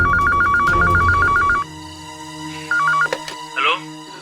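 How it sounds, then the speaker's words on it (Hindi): A telephone rings during a crime drama scene: two bursts of a pulsing electronic ringtone, a long one and then a short one. Voices and background sounds fill the room around it. "ये लीजिए, घंटी बज रही है।"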